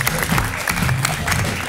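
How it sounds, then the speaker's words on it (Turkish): A television studio audience applauds a woman on a Turkish talk show, a brief, dense burst of clapping that fills the whole moment at moderate loudness. "Hanımefendiyi alkışlarken hanımefendiyi de alkışlıyoruz"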